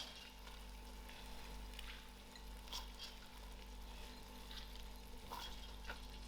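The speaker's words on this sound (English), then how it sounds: "I will allow this another 8 to 10 minutes to fry" Jackfruit and biryani dal fry in a pan, giving a steady close sizzle with soft stirring scrapes throughout and no talking.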